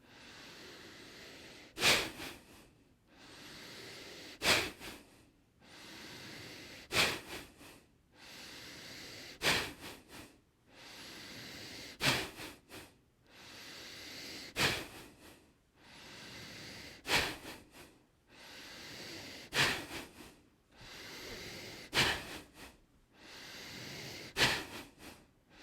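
A person practices bhastrika bellows breathing, with about ten slow cycles of forceful, loud nasal inhales and exhales, each rising to a sharp snort-like peak, close and without talk.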